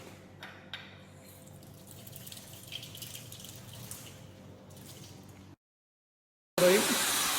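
Water runs and trickles over a stainless steel sample in a lab sink, a faint steady splashing with a few drips, then a short silence and a sudden louder gush of running water at the end.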